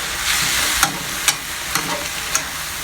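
Spring roll vegetable filling stir-fried in a pan, with a steady broadband sizzle and several sharp scrapes or clacks of a utensil stirring at irregular intervals, close and fairly loud.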